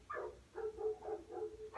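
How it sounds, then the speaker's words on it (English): Several dogs bark in a quick series of five or six sharp, moderately loud yaps and woofs, close by and with no talk over them. "Bunch of barking dogs."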